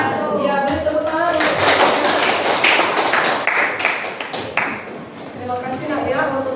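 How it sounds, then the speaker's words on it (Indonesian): Classroom audience applause after a group presentation during a teacher-training performance exam, dense broadband clapping filling the room for several seconds, tapering slightly near the end with voices mixed in. "beri tepuk tangan"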